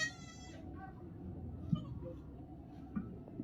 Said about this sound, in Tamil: ஆட்டுக்குட்டி பால் கொடுங்க அக்கா